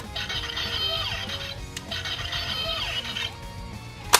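A Power Rangers Samurai Mega Blade toy emits an electronic sound effect triggered by a button press, a buzzy, bright synthetic pattern played twice in a row, fairly close and steady.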